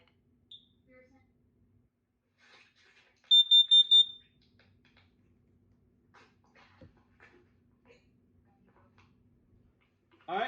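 Kidde KN-COSM-IBCA smoke and carbon monoxide alarm gives a short burst of four piercing high beeps, with faint spoken voice prompts and quiet room sounds around it.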